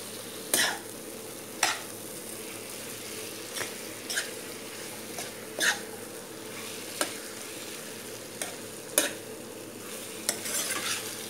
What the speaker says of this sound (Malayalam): ഇതിലോട്ട് വറുത്ത് വെച്ച ചിക്കൻ. നല്ലതുപോലെ ഇളക്കി കൊടുക്കാം.